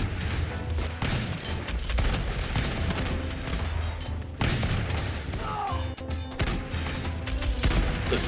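Musketmen fire volleys during a video game battle against charging Praetorians and knights, heard as repeated bursts of crackling gunfire with booming thumps that rise and fall over a continuous din.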